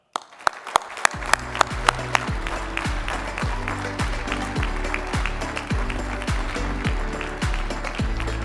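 Audience applause welcomes keynote speaker Steve Cochran at a BBB annual meeting, a broad, steady wash of clapping from a large crowd that starts after a few sharp claps and continues evenly throughout, loud and close.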